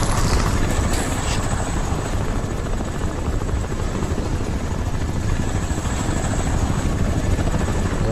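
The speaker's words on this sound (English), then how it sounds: "Yo, has this helicopter been following me?" Helicopter in the video game Crysis, a loud continuous rotor roar with steady thudding chop that holds close and overhead throughout, no speech.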